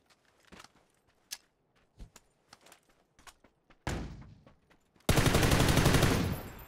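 Gunfire in the battle royale game PUBG, starting as a few faint, scattered shots and thuds, then a burst of noise, and ending in a loud, sustained rapid-fire volley.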